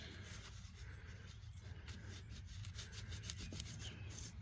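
Gasket residue being wiped off a Viair 480C air compressor with a hand wipe: steady close rubbing and scrubbing strokes, continuous and moderately loud with no talking.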